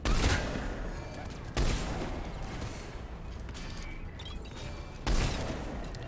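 Gunfire from the video game Mass Effect 3, with dense, sustained shooting and a few heavier bursts that punch through a continuous battle din. A voice talks faintly underneath.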